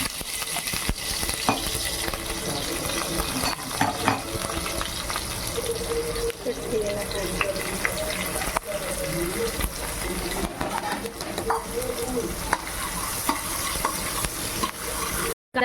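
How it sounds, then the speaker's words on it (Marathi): Mustard seeds, cumin, whole spices and curry leaves dropped into hot oil for dal khichdi: constant crackling sizzle and spattering, close and loud, with occasional stirring scrapes and a brief cut-out near the end. "आपलं तेल गरम झालेलं आहे. आता आपण मोहरी आणि जिरे टाकून घेऊया."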